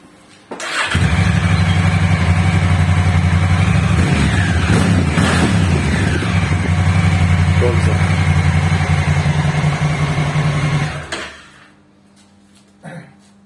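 A Honda Africa Twin CRF1000L motorcycle engine cranks and fires, then settles into a steady, loud, close idle for about ten seconds before shutting off, with people talking over it.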